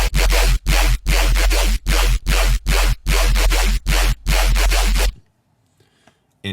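Serum dubstep/hybrid bass synth heavily squashed by a multi-band compressor, hammering out a dense run of loud, gritty stabs with short gaps for about five seconds before dropping to near silence.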